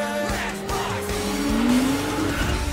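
Engines whine and tires screech as cars race in the Matchbox Driving Adventures video game, a steady loud drone with a rising squeal near the middle.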